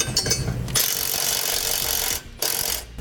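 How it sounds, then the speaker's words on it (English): A hand ratchet with a 9/16 socket starts nuts on air helper springs, giving close, rapid clicking in quick strokes with a short break near the end. "We're using a 9/16 socket for this."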